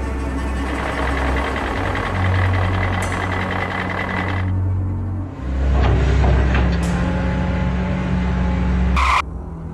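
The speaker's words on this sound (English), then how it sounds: "Scary Garbage Truck." A garbage truck engine rumbles loudly and steadily, with a high electronic reversing beep cutting in briefly near the start and again toward the end.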